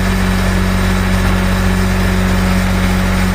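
A Darley 75-foot CAFS quint fire truck idling with its pump engaged, a loud, steady low diesel drone with a constant tonal hum and no change in pace, close by and with no voices.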